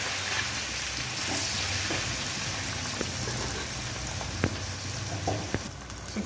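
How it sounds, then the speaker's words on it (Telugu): Raw plantain pieces frying in a pan over a tempering of spices, giving a steady, close crackling sizzle with a few sharper pops and no voices. "ఈలోపు వేరే ప్యాన్ మీద అరటికాయ ఫ్రై ప్రిపేర్ చేస్తున్నాం ఫ్రెండ్స్"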